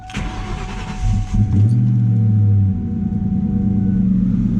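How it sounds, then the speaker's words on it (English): A Ford SVT Cobra with a Flowmaster exhaust starts up and settles into a loud, steady rumbling idle at close range, with no voices over it. "I want to hear the Flowmaster exhaust"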